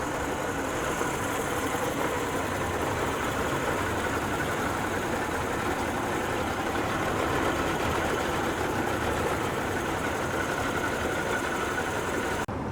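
A repaired Yamaha 50 outboard engine being run in, its motor prone to slight overheating, runs steadily with a dense, even buzzing drone, close and continuous, with no voices.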